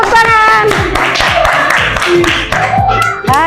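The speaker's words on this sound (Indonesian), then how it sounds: "Oke, udah tepuk tangan." A classroom of children clapping their hands together in a school lesson, a dense rapid patter close by, with a teacher's and children's voices talking over it throughout.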